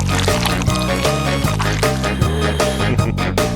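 Melted chocolate is poured into a mould. The pour is thick and continuous, close up, and it sits under busy background music with no clear break.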